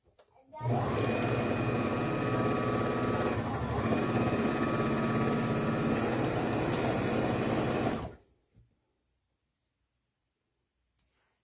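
A sewing machine stitches steadily down a breastfeeding bra for about seven seconds, loud and continuous with a dense mechanical whir. It stops abruptly, followed by near silence and a faint click.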